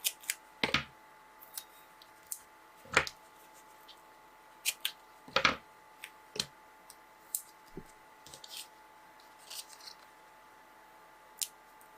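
No-stick scissors snip during card making at home, a scattering of short crisp clicks and cuts spaced irregularly, a few louder and close, over quiet room hiss.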